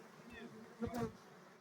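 Wasps and bees buzz around a beehive during an autumn hive inspection, with a faint hum that swells into a brief, closer buzzing pass near the middle, and no talk.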